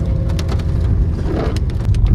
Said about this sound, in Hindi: यहाँ पे बारिश हो रही है, सुबह से ही हो रही थी तेज